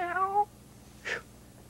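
A cat meows twice, a clear, tonal, drawn-out meow followed after a pause by a shorter, fainter one, with no other sound around them.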